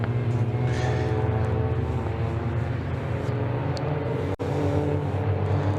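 BMW Mini race cars in an endurance race at Donington Park, engines droning steadily with layered tones and occasional passes, heard continuously at moderate distance.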